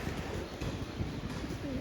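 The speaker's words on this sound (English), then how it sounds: "Here you can see hundreds of pigeons and crows all around the Banganga Tank." Pigeons and crows gathered around Banganga Tank in Mumbai's Malabar Hill, low pigeon cooing and faint bird calls over a busy outdoor background hum.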